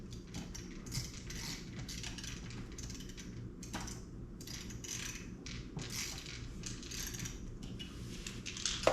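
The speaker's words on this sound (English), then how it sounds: "So we're going to put this screw back in so that it can't be taken out." A small screw is driven back into a PointCentral smart hub unit, producing faint close metallic clicks and light scraping as the screwdriver turns in short, irregular bursts at low volume.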